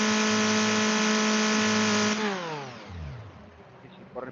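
A car engine is held at full throttle during a MAF sensor test, giving a loud, steady high-revving drone. Once the throttle is released, the revs fall away and the engine slows back toward idle.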